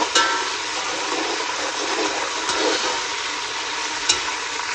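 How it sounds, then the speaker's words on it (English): Tomato chutney with garlic paste stirred in a pan over a low flame, giving a steady close sizzle and frying hiss with scraping strokes throughout and no talking. "Put it on low flame and stir it"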